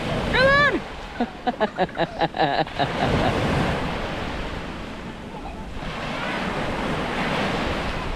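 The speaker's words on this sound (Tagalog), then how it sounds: "lakas nga naman ng alon" Strong ocean surf breaks on a beach in a loud continuous wash, with wind buffeting the microphone and children's shouts and voices heard over the opening seconds.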